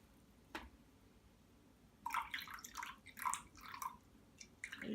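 Water is poured quietly into a measuring cup for a sourdough starter, an opening drip followed by a couple of seconds of soft, uneven splashing and trickling close by.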